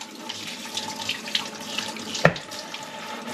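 Tap water runs steadily into a sink while raw meat is rinsed before being cooked into kaldereta, a continuous close hiss with a brief louder splash near the end.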